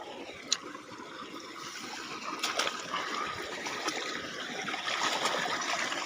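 Floodwater after heavy rain rushes steadily through a rice field, a broad even wash of sound with faint splashes, moderately distant and with no voices.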